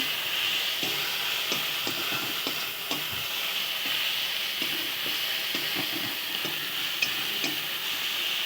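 Fish frying in a pan with turmeric and spices while it is stirred, a steady sizzle and hiss with repeated scraping stirs, close and fairly loud, with no talking.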